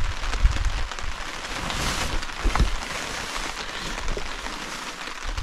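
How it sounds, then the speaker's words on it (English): Light rain pattering on a camping tarp in the wilderness, a continuous soft hiss of drops with scattered louder taps and low thumps, steady and close, with no voices. "We got a light rain right now. I don't know if you can hear it pitter-pattering on the tarp."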